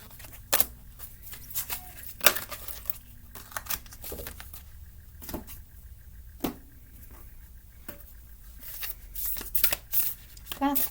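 A deck of tarot or oracle cards is shuffled and split by hand in a quiet room, giving repeated crisp riffling bursts and soft card slaps at an uneven pace, close and moderately loud.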